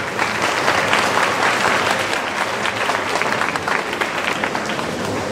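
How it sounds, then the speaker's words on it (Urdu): Loud, dense audience applause fills a closing ceremony hall, steady clapping from a large crowd throughout with no break. "ایک بار اپنے لیے, اس پروگرام کے لیے اور تمام مینجمنٹ کے لیے زوردار تالیاں بجائیے گا"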